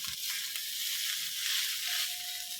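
Shredded chicken fried rice sizzling in a pan at breakfast, a steady close hiss of frying that runs unbroken for a few seconds with no voices, a faint thin tone rising near the end.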